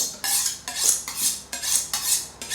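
A knife blade strikes a cutting board in a forward, downward chopping motion, giving about six crisp, evenly spaced clicks and scrapes close up, each fading quickly before the next.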